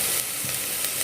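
Spices being lightly sautéed in a pan as the first step of a Paarai meen kulambu fish curry: a steady, soft sizzle of frying that holds evenly throughout, with no talking.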